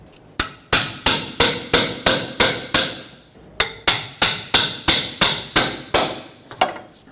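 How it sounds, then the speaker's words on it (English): A hammer strikes a pry bar to knock off a single-use bellows boot clamp at the steering knuckle of a 2006-2010 Hyundai Sonata, a fast, even run of sharp metallic blows, close and loud, with one brief pause midway. "take a pry bar and a hammer, punch that off so we can unhook it from in there"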